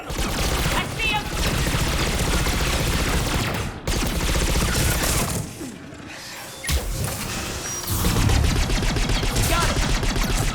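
Dense sci-fi firefight in Mass Effect 3: Legendary Edition, with continuous rapid automatic weapon bursts and booms, loud and close, briefly easing before surging again.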